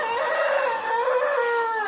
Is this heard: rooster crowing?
yes